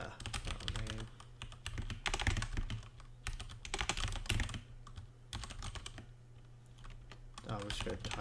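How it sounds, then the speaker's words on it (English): Steady clattering keystrokes on a computer keyboard, close and fairly quiet, in quick irregular bursts with brief pauses, typing code. "I'll just go type."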